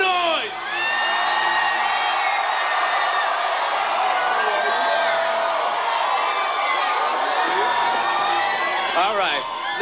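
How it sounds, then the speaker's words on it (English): A big arena audience at the 2003 MuchMusic Video Awards whoops, screams and cheers without pause, a loud, dense roar of high shrieks sustained throughout, with a voice faintly under the din. "now you hear how crazy all these people are going"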